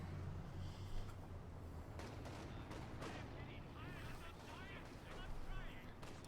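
Katyusha rocket launcher salvos in Company of Heroes 2, a dense rumble of rocket launches and distant explosions rolling under continuous commentary.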